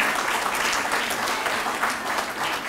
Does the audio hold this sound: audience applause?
yes